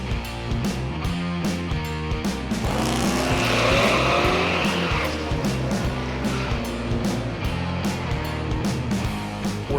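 A GM car fitted with a TCI high-stall torque converter makes a drag run at Irwindale drag strip, its engine revving hard and shifting in rising, repeated pulls, with a brief tire squeal partway through.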